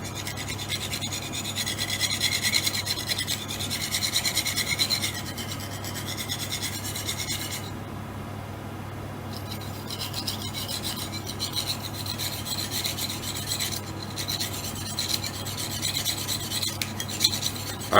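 A steel knife blade, an FGX Wasp, is drawn repeatedly across a plastic sharpener, making a steady close rasping scrape. The strokes run continuously, with a brief quieter gap partway through and no talking.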